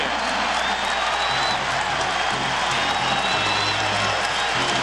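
Crowd at the Hearnes Center basketball arena during a college game, a dense steady roar of cheering and applause that fills the whole stretch at high level, with faint whistles threading through.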